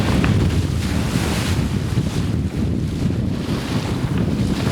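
Steady, loud wind rushes past the bow of a sailboat at sea in 12 to 15 knot winds, with continuous roaring buffeting and the wash of water beneath, no speech.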